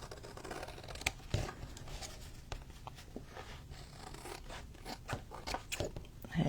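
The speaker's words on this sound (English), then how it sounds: "use the cardstock to kind of guide your scissors" Scissors snip through cardstock in a quiet room, a series of faint, scattered clicks and crisp cuts at an uneven pace, with occasional soft rustling between them.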